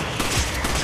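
Pistol fire in the video game Resident Evil 5, a few quick sharp shots in close succession over a dense, noisy game background.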